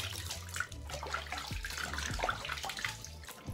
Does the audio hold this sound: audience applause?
no